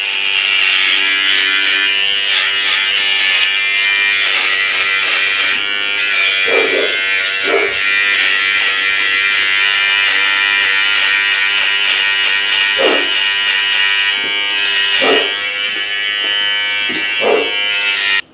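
A MANSPOT electric groin hair trimmer buzzes steadily and loudly up close throughout, its motor tone wavering slightly as it cuts, with no talking.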